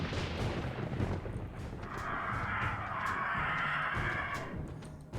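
Angry crows in the 7 Days To Die video game caw harshly in a dense, overlapping chorus over constant rumbling noise and sharp bangs.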